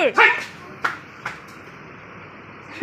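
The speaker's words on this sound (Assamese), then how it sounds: "এই কুকুৰ কুকুৰ কুকুৰ" A dog barks a few times nearby, short sharp yaps spaced apart, with a person talking briefly at the start.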